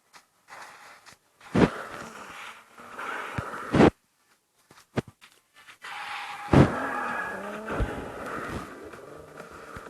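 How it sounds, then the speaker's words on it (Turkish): Race cars in the mobile video game Asphalt Nitro rush past in loud surging engine bursts with sharp whooshing hits, separated by brief quieter gaps, close and intense throughout. "yanımda araba hemen geçelim."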